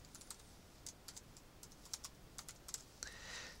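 Someone types a name on a computer keyboard: a run of quiet, irregular key clicks, close and alone, with a few brief pauses between bursts and a slight rise in background noise at the end.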